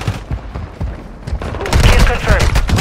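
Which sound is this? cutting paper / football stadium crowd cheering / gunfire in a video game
gunfire in a video game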